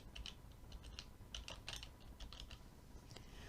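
Keys tapped on a computer keyboard while spelling out a single French word, a quick uneven run of light clicks at moderate distance with a steady low background hum and no voices.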